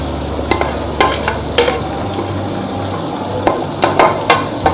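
Spinach being stirred into a frying pan of potatoes over a medium-high flame, with soft sizzling and several sharp spatula scrapes and knocks against the pan.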